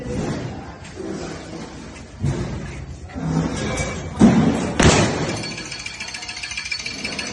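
Heavy punches land on a coin-operated power punch boxing machine, a few dull thuds and slams over a busy shop-floor background with some voices nearby.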